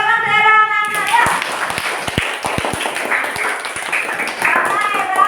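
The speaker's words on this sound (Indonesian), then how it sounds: "Tepuk tangan untuk Era" A classroom of children bursts into clapping for a student who answered correctly, a lively scatter of hand claps with a few sharp louder ones, heard after a teacher's voice and with speech mixed in.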